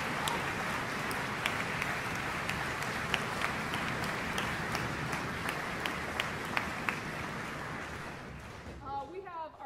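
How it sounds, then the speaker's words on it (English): Sustained audience applause for the faculty of a music camp's symphony orchestra, steady dense clapping with a few sharper individual claps, fading out near the end as a voice begins. "So if we can give a round of applause for our faculty."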